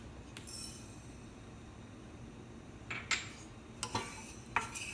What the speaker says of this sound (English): Next, I'm going to add these mustard seeds